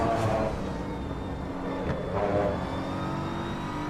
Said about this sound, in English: Sound of this car makes you sick.